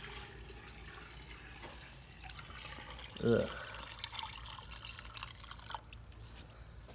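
Water poured into a car differential being prepared for welding on an LS-swapped Subaru BRZ, a faint trickling and splashing under a low background, with a brief louder gurgle midway and a person grunting.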